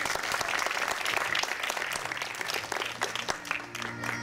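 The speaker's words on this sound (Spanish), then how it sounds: "Fuerte las palmas para él." Loud, dense applause fills a school graduation ceremony hall as a primary class honours its godfather, steady clapping throughout with a faint murmur of voices underneath.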